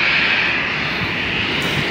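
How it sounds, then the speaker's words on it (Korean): A Boeing 737-800 jet engine roars at Nagoya airport, heard from an outdoor observation deck as a loud, steady, broadband rumble with a high whine throughout. "이 비행기 기종이 보잉 737-800자이 맞네요."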